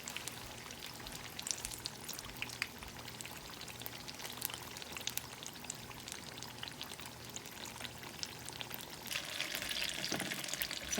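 Lumpiang turon, banana spring rolls with caramelizing brown sugar, fry in hot oil with a constant dense crackling sizzle that swells louder near the end, close and without talk.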